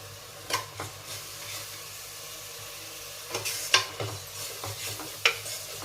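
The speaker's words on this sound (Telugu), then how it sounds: "ఇవన్నీ వేసి బాగా కలుపుకొని పచ్చివాసన పోయే వరకు బాగా కలుపుకోవాలి" Stirring chili powder and coriander powder into hot oil in a pan, a soft scraping stir with faint sizzling and a few sharper clinks of the spoon against the pan, close and fairly quiet.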